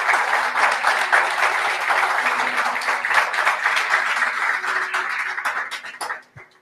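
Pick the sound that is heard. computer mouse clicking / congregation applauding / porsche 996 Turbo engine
congregation applauding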